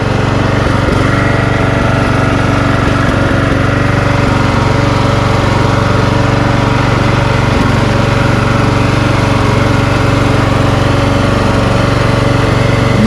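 A Craftsman LT1000 lawn tractor repowered with a rebuilt Briggs engine runs steadily and loudly up close, a continuous mower drone with no talk over it.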